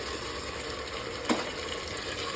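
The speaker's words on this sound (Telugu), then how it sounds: "ఇది పచ్చి వాసన పోయేంత వరకు దీన్ని బాగా ఫ్రై చేసుకోవాలన్నమాట" Tomato puree with garlic and ginger fries in a pan for tomato bath, giving a steady close hiss and sizzle with one brief stir or scrape midway and no voices.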